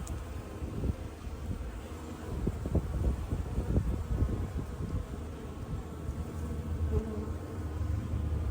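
Bees buzzing during a beehive removal in Chino, a steady swarm hum at moderate level with individual insects droning close by, over faint wind noise.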